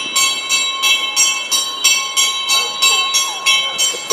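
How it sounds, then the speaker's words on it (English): A hand bell, rung by a man walking behind a garbage truck on a street in Los Olivos, Lima, Peru, clangs in a steady, repeated rhythm, about two strokes per second, with faint voices in the background outdoors. "See the guy walking behind the truck is ringing a bell."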